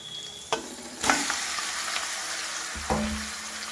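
Chicken pieces tossed into a pan of well-fried onions with fresh mint, giving a close sizzle with scraping stir strokes and a sharp burst as the meat hits the hot oil.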